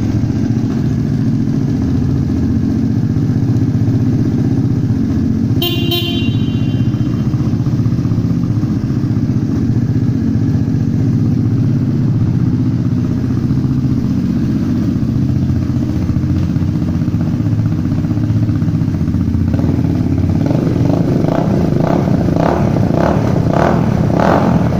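Suzuki Van Van 200 motorcycle from 2002, started through the clutch without choke, runs with a steady loud single-cylinder idle and a sharp clatter near the start, rising to a harder, rougher exhaust note toward the end.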